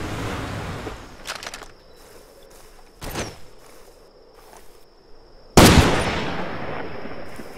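Gunfire in the video game Far Cry 2: a few sharp, loud shots spaced several seconds apart, the last one heaviest with a lingering tail, over a quiet background hum.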